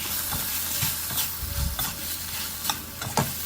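Pork leg and bitter melon are stir-fried in a pan with southern curry paste, giving a continuous loud sizzle broken by scraping, clattering stirs of the spatula, close and without talk.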